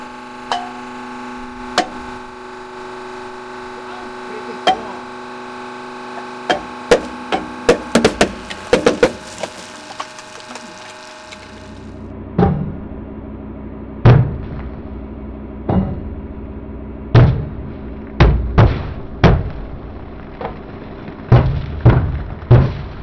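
Soda cans crush under a 10-ton hydraulic press: a series of sharp cracks, pops and crunching thuds, some clustered and others spaced out, loud and close over a low mechanical hum.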